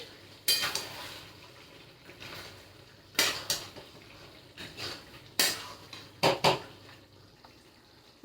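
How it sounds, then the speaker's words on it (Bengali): Goat meat being stirred in a pot with a metal spoon, with about half a dozen sharp scraping clanks against the pot spaced over several seconds, close and fairly loud, separated by quiet gaps. "আমি আর একবার নেড়ে দিই।"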